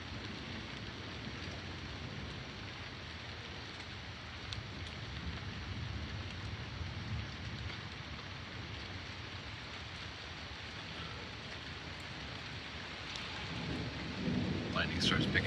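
A thunderstorm brings steady rain and low, rolling thunder that rumbles on continuously, growing louder and closer in the final seconds. No voices.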